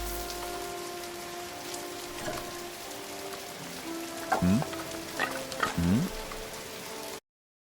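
Water boiling on a stove in a house kitchen, heard as a steady bubbling hiss with scattered popping, occasional louder knocks and clatters, then cutting off abruptly.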